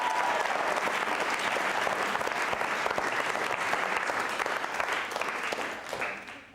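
A school audience at a quiz show applauds, with loud, dense clapping from many hands that stays even for several seconds and then tapers off at the end.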